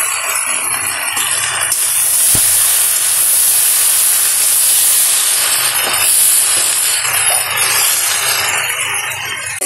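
Tomato is dropped into hot oil with onions and okra, setting off a loud, steady sizzling hiss that runs continuously from start to finish, with no one speaking.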